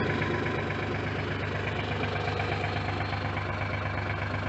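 A backhoe engine idles steadily at close range, a low, even throb with a regular knocking pulse that never changes pace, running alone without any talk.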